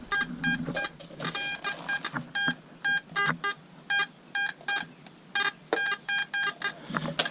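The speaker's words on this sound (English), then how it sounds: "you can't even sit this metal detector down because" A metal detector over trash under high school bleachers beeps continually, giving rapid runs of sharp, steady tones in close, regular bursts with short gaps, loud against a faint background.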